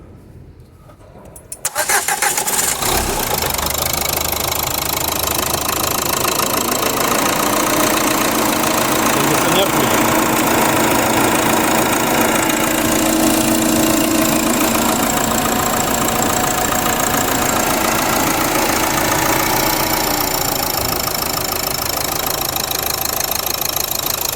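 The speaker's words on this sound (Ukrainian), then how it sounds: "Заводимо автомобіль." A Renault Laguna diesel engine cranks and starts, then settles into a loud, steady, clattering idle that runs without a break.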